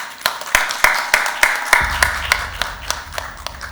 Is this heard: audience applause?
yes